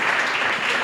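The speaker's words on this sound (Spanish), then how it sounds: "Qué bueno, un aplauso." Steady applause from a crowd, dense and continuous clapping throughout the short moment.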